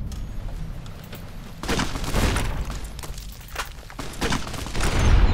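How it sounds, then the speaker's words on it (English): Gunfire at a Legion raid camp in Fallout New Vegas, bursts of rapid shots and booms over continuous battle noise, growing louder toward the end. "I thought I shot him."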